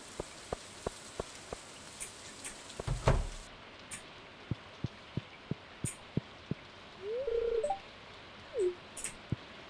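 Rain in the Stardew Valley farming game, a steady soft patter with sharp regular ticking drops and a few brief game sounds on top, no voices.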